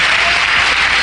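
A church congregation at a Spanish-language Holy Week service bursts into loud, dense applause, a brief unbroken wall of clapping.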